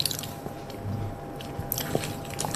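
Close, wet crunching and squishy biting as someone chews a banana, with soft mouth noises and a couple of sharper crunches, no talking.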